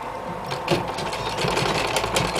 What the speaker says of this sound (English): I'm going to carefully sew this.